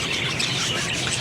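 Pet budgerigars chirp in a steady, busy chatter of bright tweets and squawks, fairly close and continuous, with no voices over them.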